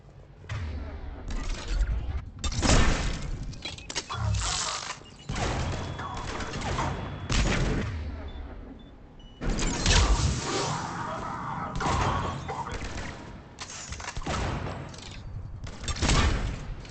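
Enemy gunfire in the video game Mass Effect 3 crackles in repeated bursts of rapid automatic shots and impacts, loud and close, with short lulls between volleys.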